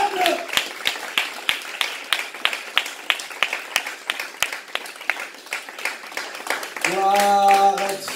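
A church congregation applauds in steady rhythmic claps, loud and close, with a voice briefly rising at the start and a sung or shouted tone near the end.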